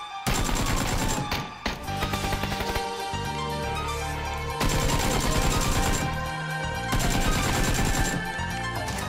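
Machine-gun fire in the PUBG battle royale game comes as loud, dense rapid bursts in several long volleys with brief gaps, harsh and close, with no voices.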